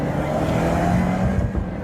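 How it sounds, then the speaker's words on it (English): An Alfa Romeo Giulia, a fast non-Quadrifoglio version, drives at steady speed, its engine a continuous close drone with road and tire roar, heard from inside the car with no talk. "I'm driving the Alfa Romeo Giulia"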